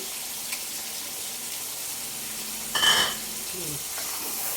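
Whole spices and bay leaves sizzle faintly in hot oil in a frying pot, with a single brief scrape of stirring partway through over a steady low hiss.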